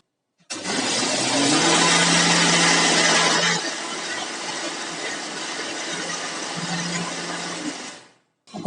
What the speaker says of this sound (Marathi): आता ही आपण वाटून घ्यायची आहे मिक्सरमध्ये